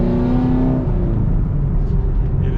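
A car engine blips up in revs during a rev-matched downshift, a loud, steady engine drone with rising harmonics at first that settle into a rough, throaty rumble throughout.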